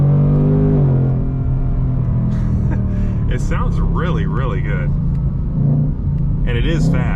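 Engine of a 2024 Ford Mustang Dark Horse, heard from the cabin as a steady, deep, rumbling drone that eases slightly in pitch, with someone talking over it throughout.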